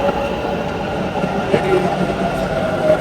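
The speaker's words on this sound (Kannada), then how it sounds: "ಮೆಟ್ರೋ ಬಂದಿದೆ, ಒಳಗಡೆ ಹತ್ಬೇಕೀಗ." A metro train pulls into a station with a steady low rumble of wheels and motors, some faint clicks and a brief squeal, carrying on without a break under the busy platform ambience.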